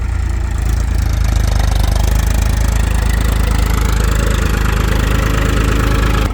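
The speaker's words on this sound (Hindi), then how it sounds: "ट्रैक्टर पूरा जोर लगा के घूमेगा भाई" A tractor engine runs loud and close under heavy load while sowing potatoes in a field, a constant deep rumble with a rough knocking texture and no voices.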